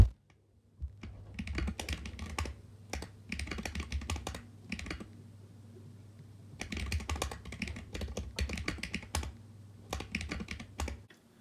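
Rapid typing on a computer keyboard in two long bursts separated by a quiet pause, close and clear over a low steady hum, with no talk.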